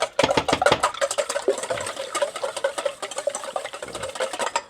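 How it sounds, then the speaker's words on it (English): Eggs are whisked briskly in a bowl for scrambled eggs, a fast, steady clatter of wire tines against the bowl sides, close and fairly loud, with no talking. "Give that a quick whisk"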